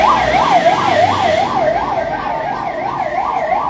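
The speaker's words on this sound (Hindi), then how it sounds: "इस समय एम्बुलेंस आ चुकी है" An ambulance siren wails loud and close at a hospital fire mock drill, its rising and falling tone cycling rapidly and evenly over a low vehicle rumble, with no voices.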